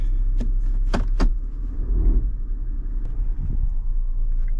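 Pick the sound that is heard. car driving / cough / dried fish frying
car driving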